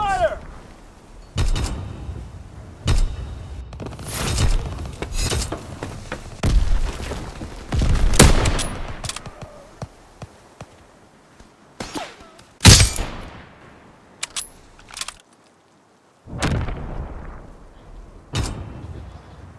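Gunfire and explosive booms in Call of Duty: WWII, with loud irregular bursts of shots and heavy thuds spread across the clip, some close and sharp, others duller, with shouted voices in between.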